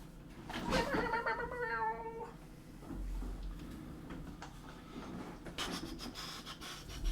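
A pet cat scratches with busy rubbing strokes and lets out a drawn-out meow near the start, with some low knocks and room noise through the rest; a voice is briefly heard.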